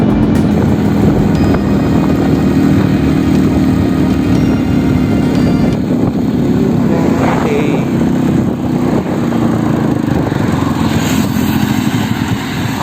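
A Suzuki Max 100 motorcycle fitted with an RX100 silencer idles with a steady, loud engine drone close by, its tone shifting partway through as it winds toward being switched off.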